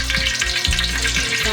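Oil and ghee heat and sizzle in a pan, a continuous close frying crackle with soft bubbling pops, loud and steady with no voices.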